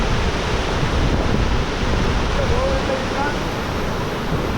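Forceful waterfall at Mankulam, Kerala, its water rushing in a constant, loud, broadband roar that holds steady throughout, close to the listener with no other sound standing out.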